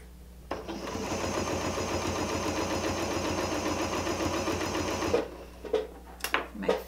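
A sewing machine stitching along a selvage edge through layered selvage and muslin fabric with monofilament thread runs in a steady rapid whir for several seconds, then stops, followed by a few clicks and handling sounds.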